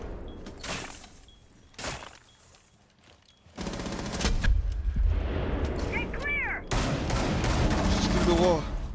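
Rapid automatic gunfire in a tactical shooter video game, sustained loud bursts fired through a wall, preceded by a few sharp single shots, with players talking over the shooting.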